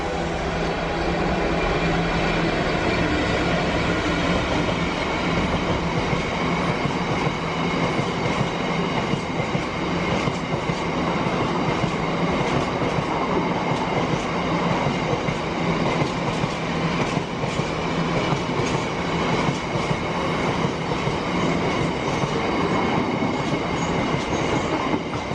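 Passing steam train, a loud continuous rumble and clatter of wheels on rails filling the whole stretch, close by and steady with no voices.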